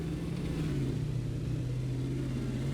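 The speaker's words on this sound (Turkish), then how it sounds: "758 beygirlik motor var şu an bende." A Shelby GT500 with a 758 hp engine in Euro Truck Simulator 2 drones at a steady, loud mid-pitched hum that shifts slightly in pitch, with no talk over it.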